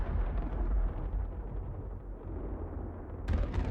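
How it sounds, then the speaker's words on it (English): A flashbang goes off in the video game Aethermancer with a heavy, rumbling boom that rolls on for several seconds, then a sharper burst near the end. "Flashbang"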